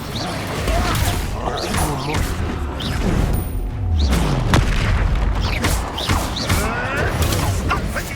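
Explosive spell blasts from the Expulso spell in the Hogwarts Legacy video game, with repeated loud booms and crashes over a dense layer of combat effects and music, several impacts spread through the stretch.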